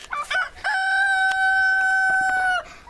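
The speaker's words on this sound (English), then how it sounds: "rooster's all excited" A small, excitable rooster lets out a single long, loud, close crow that holds steady before breaking off.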